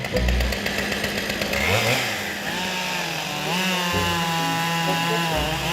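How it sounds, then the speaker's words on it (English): A chainsaw roars continuously up close, its engine pitch rising and dipping as the chain cross-cuts logs into 28-inch pieces. "cross-cutting the logs into 28-inch pieces with a chainsaw"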